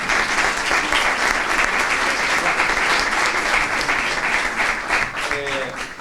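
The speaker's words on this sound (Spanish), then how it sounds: "Vamos a dar un aplauso a la pobre." A seated crowd at a cultural association's presentation gives a speaker a loud, sustained round of applause, many hands clapping in a thick, continuous patter that barely varies before tapering near the end.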